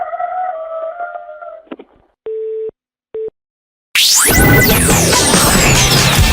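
A rooster crows loudly over a telephone line, following a short stretch of distorted sound and two flat electronic tones. The crow is close and harsh, with its pitch sweeping down.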